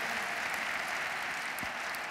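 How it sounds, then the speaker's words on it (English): An audience applauds with dense, steady clapping that holds at an even level for the whole stretch, with no voices standing out. "you can have a little bit more applause to the work that Kerry is doing"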